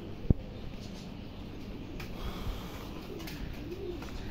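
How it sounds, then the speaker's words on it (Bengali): Pigeons coo softly in a low, murmuring stream, fairly faint and steady against outdoor background hiss, with one brief sharp knock near the start. "চলুন দেখি কবুতরগুলো নামলো কিনা।"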